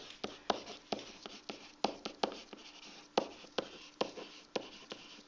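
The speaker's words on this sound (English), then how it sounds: "I'm also going to write a note about it." Pen or pencil scratching out a handwritten note, a close, quiet run of short strokes and taps in an uneven rhythm with no voices.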